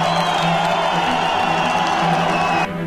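Aggressive crowd in the city centre of Donetsk, a dense continuous roar of many voices with shouts rising out of it, steady and loud throughout before cutting off abruptly at the end.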